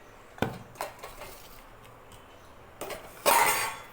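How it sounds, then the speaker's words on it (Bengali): Flasks being washed at a kitchen sink, with scattered clinks and knocks of metal and glass against the basin, a couple of sharper bumps and a closing rush of running water, close and quiet. "চলো ফ্লাস্কগুলো ধুয়ে নিই।"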